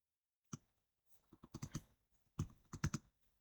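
Soft, close clicks of a computer mouse or keys come while working in Excel, scattered in short bursts of two to four with brief pauses between, quiet and with no talk.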